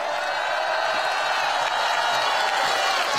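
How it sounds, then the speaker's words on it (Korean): A large outdoor crowd at a Bucheon election campaign rally applauds and cheers in a steady, dense roar of clapping that holds for the whole stretch, with no clear voices above it. "여러분, 다시 한번 큰 박수 한번 보내주시기 바랍니다."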